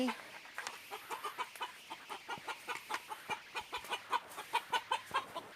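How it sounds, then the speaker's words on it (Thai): Chickens clucking close by in a rapid, steady run of short clucks that grows more regular and insistent toward the end, with faint background noise. "ไก่ตื่นค่ะ ไก่ตื่น"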